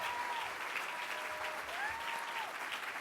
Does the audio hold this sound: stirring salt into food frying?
no